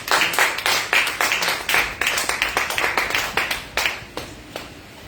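A church congregation claps together in a steady, loud rhythm of sharp hand claps, roughly evenly spaced, thinning out toward the end with no talking over it.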